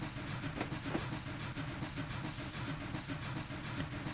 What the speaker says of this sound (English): about as well as a 100-ton loud steam engine actually can